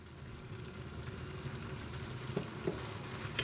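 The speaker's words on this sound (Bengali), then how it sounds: "সেটি দিয়ে আবার নেড়েচেড়ে নিচ্ছি।" A spice mix sizzles and is stirred in a pan of garlic pickle, giving a constant close frying hiss with a few soft scrapes near the end.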